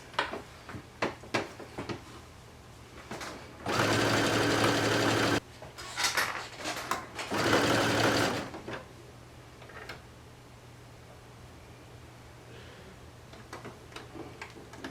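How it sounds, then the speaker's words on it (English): A sewing machine stitching a swim top runs in two steady bursts of a couple of seconds each, close and loud. Between the bursts come clicks and handling noises from fabric being moved, with no talk. "it can be done on a sewing machine from beginning to end"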